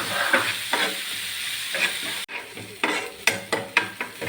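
Sautéing in ghee: a constant sizzle broken by rhythmic scrapes and clinks of a spoon stirring the pan, growing more regular toward the end.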